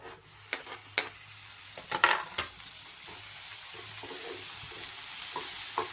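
Tomatoes go into a hot frying pan for paneer bhurji and are stirred, sharp spatula scrapes and clinks at first over a constant sizzle that settles into a smooth, even frying hiss with no voices.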